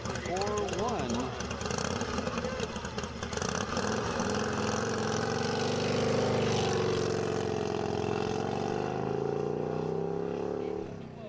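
A racing motorcycle engine runs at El Mirage dry lake during an SCTA land-speed event, a sustained loud drone with rising and falling pitch sweeps as gears change, heard continuously under a commentator's voice.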